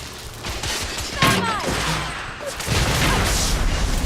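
Gunfire from The Order: 1886 video game: a dense, continuous burst of shots with booming impacts that grows louder toward the end, mixed under game noise and a voice talking.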